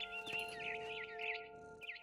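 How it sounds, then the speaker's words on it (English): Barn swallow chirping in the video game What Remains of Edith Finch, bright repeated tweets close by over a steady tonal ambient hum, continuing throughout with no talking. "Then I heard chirping outside my window. It was a barn swallow going back to her nest."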